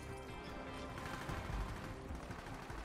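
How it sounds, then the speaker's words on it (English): Gunfire from the Borderlands 3 video game, a steady dense rattle of rapid shots at moderate level running throughout. "Is that you shooting?"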